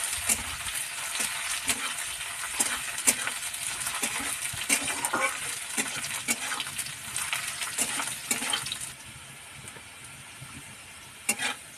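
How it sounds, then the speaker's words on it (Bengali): Thinly sliced potatoes frying in plain oil, a dense crackling sizzle with frequent spatula scrapes and clinks that fades quieter near the end, heard close with no talking. "প্রথমে আমি খালি তেলে এগুলো ভাজে নেবো"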